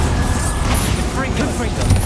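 Bombarda and Confringo spells explode during Hogwarts Legacy combat. Booming, crackling blasts come in quick succession under a dense mix of game effects, and in-game voices can be heard through the sounds.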